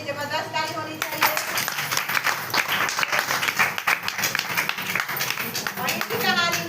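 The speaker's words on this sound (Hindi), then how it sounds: "इनके लिए जबरदस्त ताली होनी चाहिए" Audience applause at a live stage event, dense sustained clapping filling the whole stretch, steady and fairly loud, with a voice speaking over it near the start and end.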